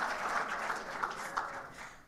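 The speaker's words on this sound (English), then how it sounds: "giving a round of applause to Tom Ryan for being here" An audience applauds at a university athletics hall of fame induction ceremony: a brief, fairly quiet, steady wash of clapping.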